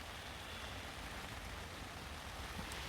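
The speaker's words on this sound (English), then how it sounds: "So it's just starting to rain, as you can hear." A steady, faint hiss of light rain falling at a campsite, even and continuous with no other sounds.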